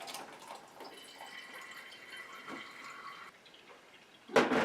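Homemade non-alcohol yarrow tincture is poured through a strainer, giving soft, close trickling and dripping of liquid at low level, with a brief louder splash near the end.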